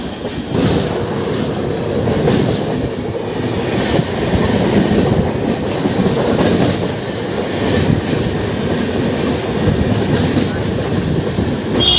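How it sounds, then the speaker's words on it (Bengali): A long-distance passenger train on the Mumbai to Kolkata run speeds along, heard from inside as a loud, continuous rumble with a rapid clickety-clack of wheels over rail joints and steady rattling throughout. "ট্রেন ছুটে চলছে দুরন্ত গতিতে"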